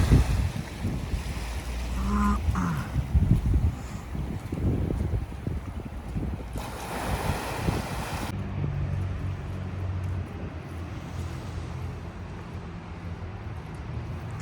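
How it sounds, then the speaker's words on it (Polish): Sea water at Spinola, Malta sloshes and churns steadily with wind noise buffeting the microphone, a continuous broadband wash throughout. "Woda, woda, woda."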